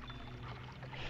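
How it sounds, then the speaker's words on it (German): Water drains away in The Legend of Zelda: Twilight Princess, a faint pouring, sloshing flow that runs steadily for about a second with no voices. "Und lassen das Wasser so wieder ab"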